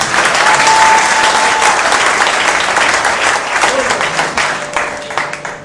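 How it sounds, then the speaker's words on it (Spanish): A church congregation claps for the King, a loud full burst of applause that gradually thins and fades, with some voices mixed in. "Pero un aplauso al Rey,"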